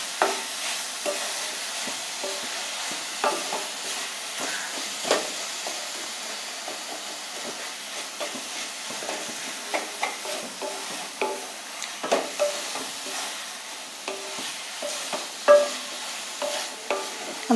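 A thick coconut and jaggery modak filling is stirred in a pan over the gas, with soft continuous sizzle and repeated scraping strokes of a spoon at an uneven pace, close and moderately loud.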